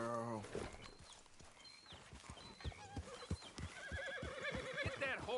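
Video game horse whinnying at the start, followed by clip-clopping hooves and shuffling footsteps, with a voice talking over the sounds and a bird chirping faintly.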